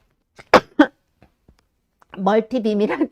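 Two sharp coughs close by, then a short pause before a person begins talking.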